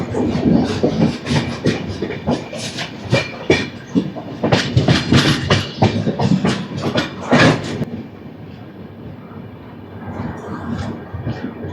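Godavari Express train at Mahabubabad station, loud rhythmic clickety-clack of wheels over rail joints for most of the clip, then fading to a quieter rumble as the cars pass.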